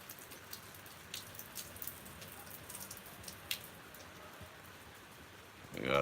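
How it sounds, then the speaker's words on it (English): Rain patters steadily during a July storm, close drops tapping on a surface with scattered louder hits and a brief swell of noise at the end. "The rain tumbles down in July."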